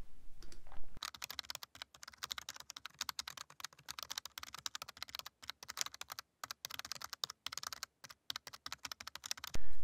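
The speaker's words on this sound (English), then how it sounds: "so I'm going to type it in here." Rapid typing on a computer keyboard, a steady close-up stream of light key clicks with brief pauses, heard alone without talk.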